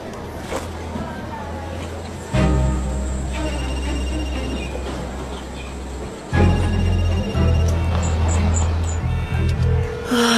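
A telephone rings repeatedly in a tense indoor scene, its bell-like tone recurring over a loud low rumble, with agitated voices speaking in French around it.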